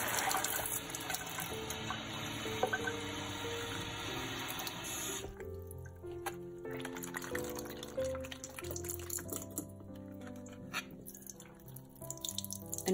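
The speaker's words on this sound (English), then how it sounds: "Fill it with some water." Running water pours from a tap in a steady hiss, then cuts off, leaving quieter drips and background music.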